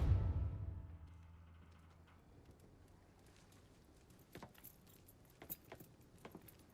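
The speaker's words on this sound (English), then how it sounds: "I grabbed the keys to the truck" Truck keys jangle in the Mafia 3 video game, a few light metallic clinks and rattles coming after a fading low thud, quiet and close against a soft background hum.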